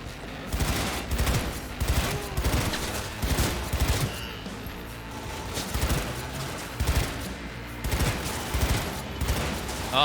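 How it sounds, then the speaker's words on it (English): Rapid bursts of burst-weapon gunfire in Cyberpunk 2077, loud repeated volleys in a steady rhythm throughout, dense and close with layered game sound. "Oh god, burst weapons."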